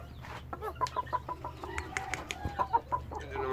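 Young chickens clucking close by in a quick, irregular series of short calls, with no speech over them.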